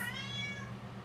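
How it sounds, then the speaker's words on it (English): Tibby, a pet cat, lets out a single brief, close meow over a low steady hum in a home kitchen. "Apparently Tibby, my cat, really is hungry for this."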